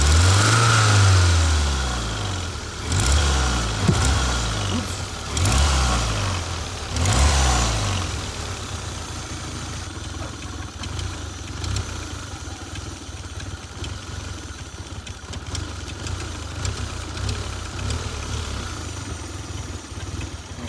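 Turbocharged 3S-GTE engine in a 1991 Toyota MR2 Turbo, loud and close, revved in several sharp rising bursts at first and then settling into a steady idle.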